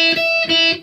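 A brief distorted electric guitar fill, a few quick sustained notes ringing out over under a second and fading at the end.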